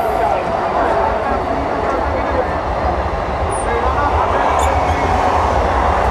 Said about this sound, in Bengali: দেখুন একটা থ্রু ট্রেন পাস করবে এক্ষুনি এখান থেকে।